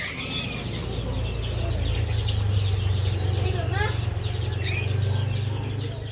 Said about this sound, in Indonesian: Ini dia jenis burung parkit Australia teman-teman.